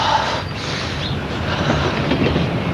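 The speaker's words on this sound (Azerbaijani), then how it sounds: "Qatarın səsini eşidirsən?" A passing train rumbles by with continuous clickety-clack from its wheels and wagons, a steady, fairly loud rolling noise with no talking.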